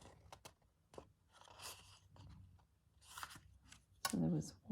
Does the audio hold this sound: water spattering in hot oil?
no